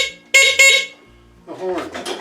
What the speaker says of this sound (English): she has a horn on her tractor